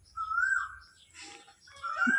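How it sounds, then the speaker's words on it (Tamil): An Asian koel calls after rain in a Tamil village, giving a few clear, rising whistled notes that carry over quiet background with a short pause between them. "மழை பெஞ்சு விட்டாவே குயில் கூவுது."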